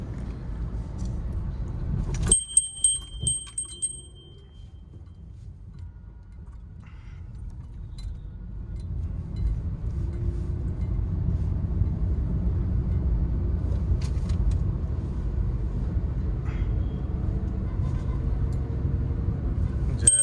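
A car cabin carries a low, steady road rumble that builds as the car picks up speed after a few sharp clicks and a jingle near the start. The drone then holds evenly to the end.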